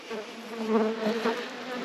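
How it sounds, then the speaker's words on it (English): Honey bees buzzing around strong, heavy hives in an October apiary, a dense steady hum close by with individual bees droning past, no voices. "Bees looking good and strong."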